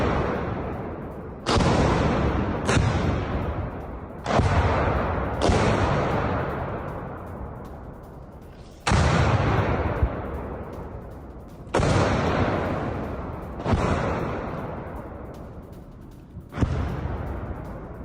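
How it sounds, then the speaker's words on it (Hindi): Gunfire from Russian forces aimed at Ukrainian soldiers in Kharkiv rings out as sharp, loud single blasts spaced a second or more apart, each trailing off in a long echoing decay, with no talking. "रूसी गोलीबारी में बाल बाल बचे यूक्रेनी सैनिक"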